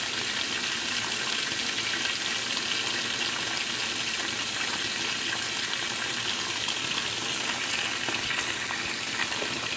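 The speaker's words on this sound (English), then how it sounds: "And now we got straight hot water." Hot water gushing steadily into a washing machine filling on a whites cycle, a continuous hissing, splashing rush that stays even and fairly close throughout.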